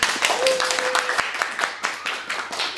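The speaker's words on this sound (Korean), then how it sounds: "박수!" Church congregation breaking into applause, a dense burst of many hands clapping that thins into scattered claps, with faint voices mixed in.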